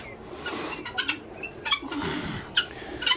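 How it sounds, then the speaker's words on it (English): Guinea fowl chirp and chatter in short, scratchy bursts inside a coop during winter, several birds calling close by over a constant background hiss. "You guineas doing all right in there?"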